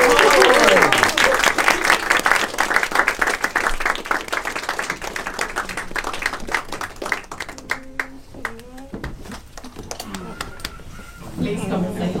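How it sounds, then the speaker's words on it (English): Wedding guests cheer and applaud a newly married couple, with dense clapping and shouts loud and close at first, then thinning into scattered claps as voices carry on. "I'm going to ask you to raise your biggest cheer"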